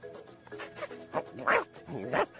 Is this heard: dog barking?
yes